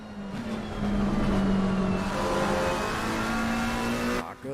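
A race car engine in a night race at Laguna Seca in a racing game rises under throttle. One car is heard close and loud, with a sustained tonal engine note that climbs and holds, then cuts off briefly near the end.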